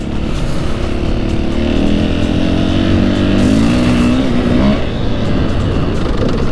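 Husqvarna 501 FE motorcycle ridden through Oregon, its single-cylinder engine rising and falling in steady, loud revs with gear changes and wind rush, close to the rider.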